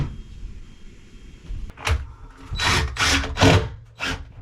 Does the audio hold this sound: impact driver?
yes